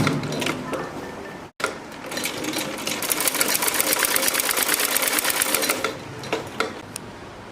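A sewing machine stitches along the edge of salwar fabric in a fast, rattling run of needle strokes, close and loud, stopping briefly near the start and then running steadily before slowing to a few final clicks.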